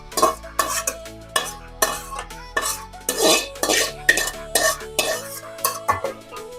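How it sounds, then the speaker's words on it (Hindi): A spoon turns biryani rice mixed with chicken korma in a metal pot, each stroke giving a clanking scrape and soft sizzle in an uneven rhythm, close and alone. "इस तरह चम्मच चलाना है, ना गोश्त टूटे ना चावल टूटे"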